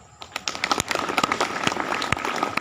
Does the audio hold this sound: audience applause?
yes